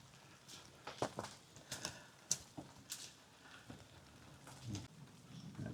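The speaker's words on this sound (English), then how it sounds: "I think it's just water coming out of the trees right now." Scattered drops of water fall from trees onto leaves and the ground along a wooded trail just after rain, making irregular, fairly close taps and patters with quiet gaps between them.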